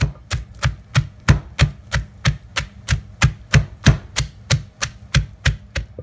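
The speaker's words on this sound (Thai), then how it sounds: "ยายก็จะตำแค่ให้เครื่องเราพอแหลกนะคะไม่ต้องละเอียดมากเพราะว่าอาหารอีสานนี้จะไม่ตำแบบ น้ำพริกแกง" Steady rhythmic pounding of a pestle in a mortar, coarsely crushing shallots and curry paste ingredients for an Isan-style curry, about fourteen even thuds in six seconds, close and loud, with no talking.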